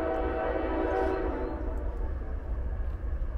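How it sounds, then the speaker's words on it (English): A CSX westbound double-stack freight train rumbles past in Lyons, New York, with a loud sustained horn blast at the start that fades as the heavy low rolling rumble of the train continues. "We got another westbound"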